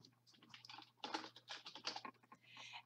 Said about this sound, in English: you will input your student information by typing in your student's first and